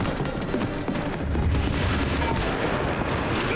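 Gunfire in The Bureau: XCOM Declassified crackles as a steady, dense barrage of shots and booms, moderately loud and continuous with no talking.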